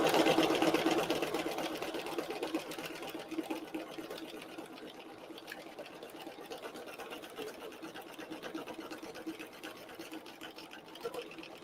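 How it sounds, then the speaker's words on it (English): An embroidery machine sews a quick zigzag placement stitch, a steady, fast, buzzing mechanical patter that runs for about twelve seconds, louder at the start and then settling to an even, quieter rhythm. "I'm going to hold this while it does the placement stitch."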